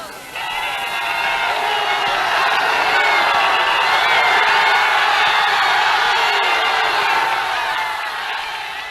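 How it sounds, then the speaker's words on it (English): Crowds in liberated France cheer Allied troops, a broad roar of many voices with whoops and shouts that swells to a loud peak and eases slightly at the end, carried on an old wartime recording. "Just listen to these crowds."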